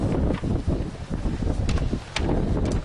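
Gusty outdoor wind batters the microphone at a youth punt, pass and kick contest, making a constant loud rough rumble with buffeting surges throughout.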